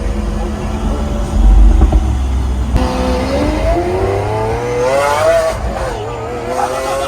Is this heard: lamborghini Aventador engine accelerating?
yes